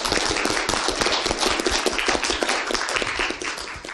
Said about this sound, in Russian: Мне очень приятны ваши аплодисменты